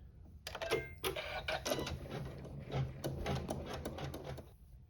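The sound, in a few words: sewing machine sewing a satin stitch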